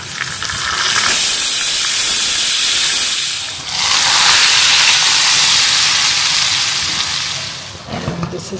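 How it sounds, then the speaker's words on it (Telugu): Loud hissing sizzle of a tempering for tomato rasam hitting hot oil in a home kitchen, a steady bright crackle that swells, dips briefly and surges again before easing off. "అండ్ తాలింపు ఫర్ రసం."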